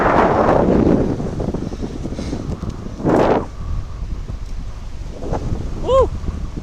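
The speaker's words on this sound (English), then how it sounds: "It's getting kind of windy." Wind buffets the microphone in loud gusts in Pennsylvania wilderness near rock formations and a drop, rumbling and roaring in bursts, with a brief high chirp near the end.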